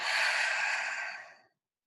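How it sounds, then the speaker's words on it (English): A single long, breathy exhale during a guided breathing exercise, heard close and fairly loud. It holds steady for over a second, then tapers off into silence, with no talk. "Inhale. And exhale."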